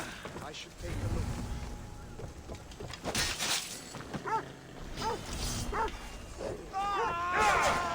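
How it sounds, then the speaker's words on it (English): A dog barks in Assassin's Creed Odyssey, a few sharp barks spaced out amid outdoor ambience with wind and water. Someone speaks and in-game voices talk around the barking. "Fucking dog."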